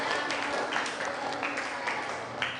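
Classmates clap after a student's classroom demonstration on the Quran and hadith, with scattered claps over a continuous patter and a few voices mixed in.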